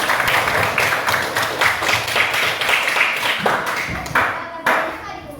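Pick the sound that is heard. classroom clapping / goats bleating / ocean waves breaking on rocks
classroom clapping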